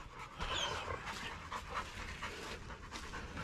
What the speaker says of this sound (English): the dogs are definitely getting excited